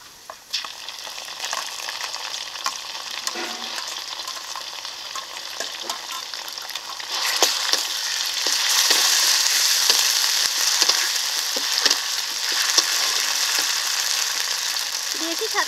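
A ground paste of garlic, ginger, cumin and green chilli hits fried onions in a pan, sizzling steadily with rhythmic scraping and clinks of stirring, growing louder and hissier partway through.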